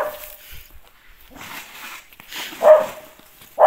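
Dog barking outdoors in a snowy Ukrainian winter yard, a few sharp barks spaced apart, the loudest near the end, with faint quiet background between them.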